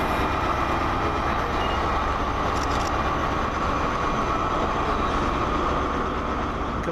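A First Great Western passenger train with power cars arrives at Bristol Temple Meads station, rumbling steadily nearby, a continuous heavy rolling drone with faint metallic squeals, and no one talks.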